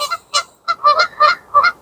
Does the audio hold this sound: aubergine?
no